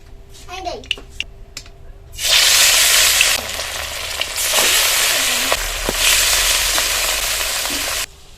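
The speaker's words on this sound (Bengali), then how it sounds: "এবার এই মাছগুলো ভাজতে বসিয়ে দেবো" Spice-coated fish pieces frying in hot oil burst into a loud, close sizzle a couple of seconds in and keep crackling with small dips, after a short stretch of voices and kitchen clatter.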